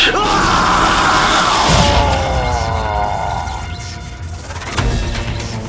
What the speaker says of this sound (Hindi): ये चीखें सुनाई दे रही हैं।